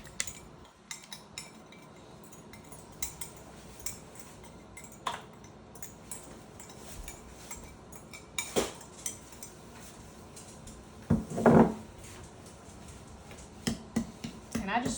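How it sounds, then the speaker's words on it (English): Eggs broken up in a bowl with a small whisk, making light clinks and ticks of metal on dish at irregular intervals, with a louder cluster of clatter partway through. "I just sort of jab at the eggs to go ahead and break them up"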